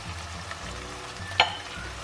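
Tomatoes, spices and salt cook in a pan for moong dal, giving a low, even sizzle with one clear metallic tap of a spoon on the pan partway through.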